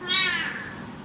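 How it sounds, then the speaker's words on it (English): A single drawn-out meow from a house cat rises close and clear, then trails off into a quiet room. "Those are my cats."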